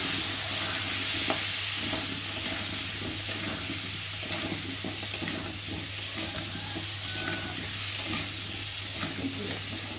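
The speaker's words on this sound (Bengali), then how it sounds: "দিয়ে আলুটাকে ভালো করে ভেজে নেব" Potatoes fry with salt and turmeric in a pan, a loud, steady sizzle filling the whole stretch while a utensil stirs and scrapes through them in uneven strokes, with no voices.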